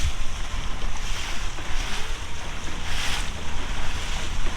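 A motorboat runs at about 20 miles an hour across Carlyle Lake, giving a steady rushing roar of hull, spray and wind noise with no break.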